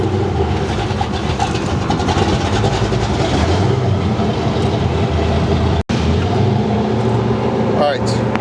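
A 500 hp 1965 El Camino rumbles steadily with a deep, loud, continuous engine drone heard from inside the car, with one brief dropout and talk over it.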